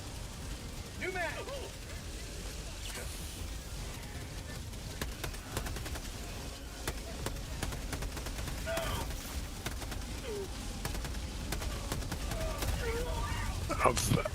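Rapid gunfire and explosions in the shooter game Helldivers 2, continuous bursts of shots under steady talking from a player.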